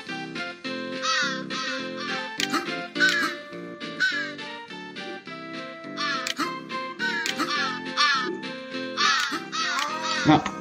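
Cartoonish bird calls from the video game Santa Claus In Trouble, including a crow's caw, come through as repeated squawks and quacks over a busy, jingly music track, with no talking.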